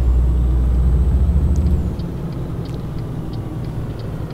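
Truck engine in Scania Truck Driving Simulator, a loud steady low rumble that eases slightly partway through as acceleration fades, with faint higher tones above and no talk.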